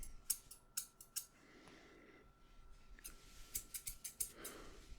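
Thinning shears snip through thick hair in a quiet barbershop setting, with crisp, close metallic snips coming in short bursts and quick clusters, separated by soft pauses and faint rustling.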